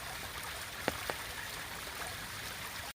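Steady soft wash of a stream trickling beside a wet forest trail in Umstead State Park, Raleigh, North Carolina, faint and continuous, with a couple of small clicks.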